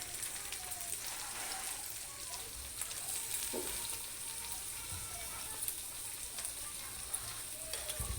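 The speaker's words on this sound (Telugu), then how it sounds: "తరిగిన ఉల్లిపాయ కూడా వేసుకొని ఒకసారి మిక్స్ చేసుకోవాలి" Chopped onion frying in a pan and being stirred while cooking prawn curry, a soft steady crackling sizzle with occasional light clicks and scrapes of a spoon, fairly faint and without talk.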